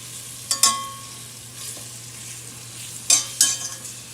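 Sausages go into a hot pan for a Neapolitan ragu, giving two short bursts of crackling sizzle with faint stirring between them under a low steady hum, close and moderately loud.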